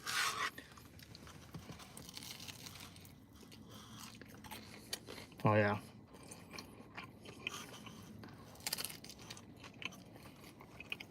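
Crunchy gas station pizza is bitten and chewed close up, with a few sharp crisp crunches spaced out over soft chewing and rustling; someone briefly speaks.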